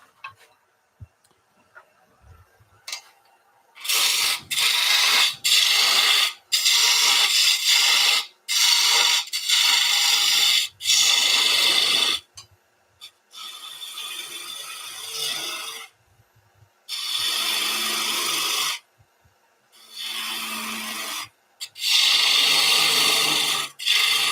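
Wood turning on a lathe with spindle and bowl gouges: repeated bursts of rasping, scraping cuts a few seconds each, separated by brief silent pauses, close and fairly loud with no talking.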